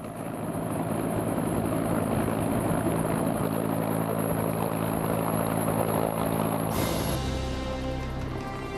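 An AH-1 Cobra military helicopter takes off at an army aviation night firing exercise, a continuous rotor and engine drone that shifts sharply in tone near the end as the craft moves, loud and without speech.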